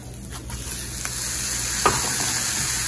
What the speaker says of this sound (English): I'm going to add the ground beef to the pan.